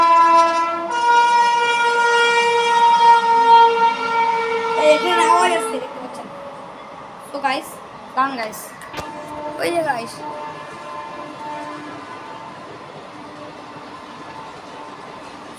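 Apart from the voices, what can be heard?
train passing near a station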